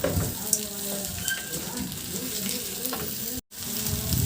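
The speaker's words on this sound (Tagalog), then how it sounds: "Nagpainit na ako ng mantika sa kawali at ilagay ko na yung 1 kilong hipon." One kilogram of shrimp frying in hot cooking oil in a wok-style pan, a steady crackling sizzle with scattered pops and stirring scrapes, fairly close and continuous throughout.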